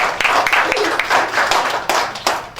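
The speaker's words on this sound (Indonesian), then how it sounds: "kita beri tepuk tangan" A church congregation at a special Sunday worship service claps together, brisk and close with uneven bursts of hand claps; a voice briefly sounds among them.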